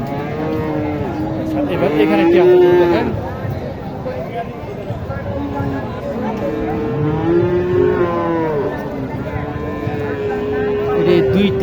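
Cattle, Sahiwal and Gir heifers, moo repeatedly in long, low calls at a cattle market in Naogaon, with overlapping bellows near and far. People talk throughout.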